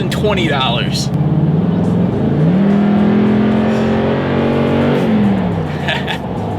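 A 2016 Toyota Tundra SR5 4x4 CrewMax pickup with a 5.7-liter V8 revs up, the engine note climbing, holding a sustained high drone and then falling, loud and close, with someone talking around it.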